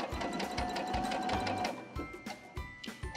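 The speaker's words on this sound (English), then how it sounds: "she's gonna start sewing these together" A sewing machine stitches 10-by-2.5-inch quilt fabric strips together for a rail fence block, its needle running in a steady close mechanical whir with regular rhythmic thumps, alone and without speech.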